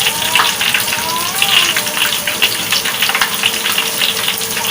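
Bakwan vegetable fritters fry in hot oil, a loud, close, steady sizzle and crackle with bubbling pops throughout and faint voices in the background.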